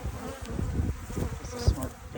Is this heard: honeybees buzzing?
yes